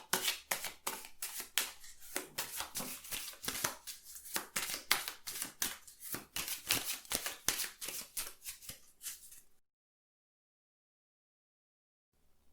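Keeper Mystique oracle cards being shuffled by hand, a rapid rhythmic run of close, crisp riffling flicks for several seconds, then silence.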